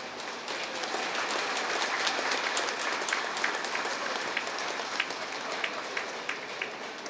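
An audience at a student award ceremony applauds, a broad, sustained roar of many hands clapping with sharper individual claps popping through, steady and loud from start to finish.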